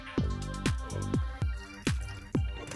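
Dumplings boiling in a pot of water, with a steady bubbling bed and a series of distinct plopping bursts roughly every half second, close and moderately quiet, no talking.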